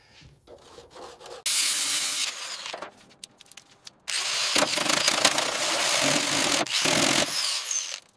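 An angle grinder strips rust from the body of an old, long-abandoned Mercedes-Benz T1 van, running loud in two sustained bursts with a gritty abrasive rasp, broken by a short pause with scattered scraping in between; no talking.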